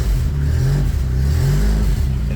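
A Toyota TE72 wagon fitted with a swapped 5-speed gearbox pulls forward, its engine close and loud with a rising, strained drone as it accelerates.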